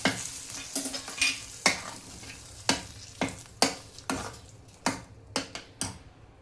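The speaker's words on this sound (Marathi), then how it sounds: "आता ही चांगली जरा रटरट शिजू द्यायची" Emmer wheat and jaggery kheer cooking in a pot while a spoon stirs it, with sharp, regular clinks and scrapes against the metal about every half second over a soft bubbling simmer, and no one speaking.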